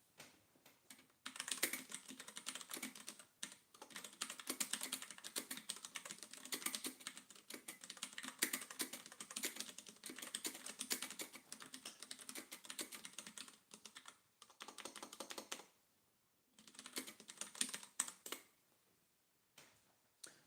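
A computer keyboard is typed on close up with fast, crisp clicking and clacking in long runs, and a few short pauses break the runs.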